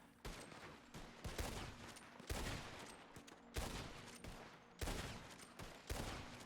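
Gunfire in the video game WildRP: repeated loud volleys of shots ring out at an uneven pace, each burst sharp and close, with short gaps between the salvos.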